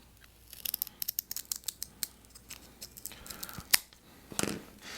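Scissors cut a craft disc in half for a mod-style bouquet, giving a quick series of close, crisp snips with a rustle and a sharper crunch near the end.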